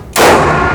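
A single loud, close gunshot from an SCCY pistol, a sharp crack followed by a short fading echo.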